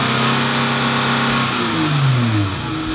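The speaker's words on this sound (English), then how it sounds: "rev it up a little bit so you can see how the engine sounds" A 2019 Dodge Challenger SXT engine revving while parked, loud and close, with a sustained throaty drone whose pitch rises and then sweeps back down as the revs fall.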